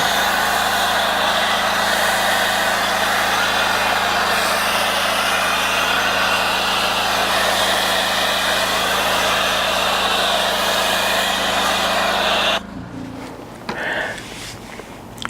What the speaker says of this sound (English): Okay, foam gun hooked up to our pressure washer.